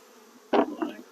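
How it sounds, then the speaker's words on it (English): Honey bees during a hive inspection give a short, close buzz, two quick bursts in under a second over a quiet background. "Bees here."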